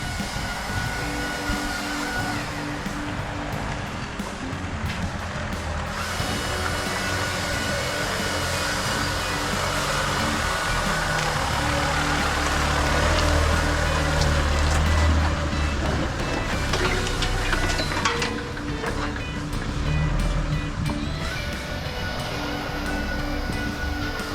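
A vehicle carrying a wood chipper crew arrives at a site where apple trees are being removed, heard as a steady, fairly loud engine and road roar that swells in the middle, with faint beeping mixed into the noise.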